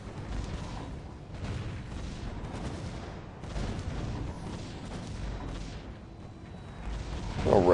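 Cannon towers firing in the tower-defense game Defense Grid: Containment, a steady stream of repeated booming shots and impacts layered with game effects throughout, loud and continuous with no talking.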